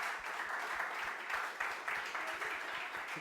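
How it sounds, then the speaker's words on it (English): Brief, modest applause from a small audience at a Web3 tech talk, scattered distinct claps at moderate distance. "So, big round of applause."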